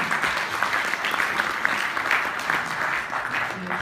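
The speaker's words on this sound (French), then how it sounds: "On peut l'applaudir." Conference audience at a green IT event applauding, a dense steady wash of clapping from a crowd in a hall, moderately loud and continuous throughout.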